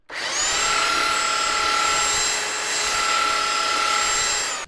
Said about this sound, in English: we sand both the veneer and the end of the board